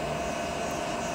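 CNC lathe spindle running under a GSK928TD-L controller, a steady close whirring hum with a constant tone and no variation across the brief stretch.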